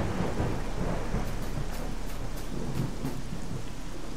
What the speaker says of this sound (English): At least the thunder has mostly stopped.